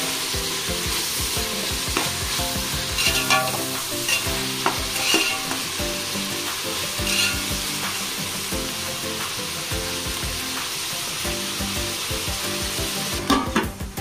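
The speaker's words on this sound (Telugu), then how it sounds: "వేసుకొని బాగా కలుపుకోండి." Ginger garlic paste frying for a beans curry, stirred steadily: loud continuous sizzle with a rapid run of close scraping strokes across the pan, rising into a busier clatter near the end, no voices.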